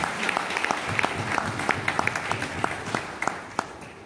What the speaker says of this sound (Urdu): آپ ایک اردو اخبارات کے لیے زوردار تالیاں بجائیں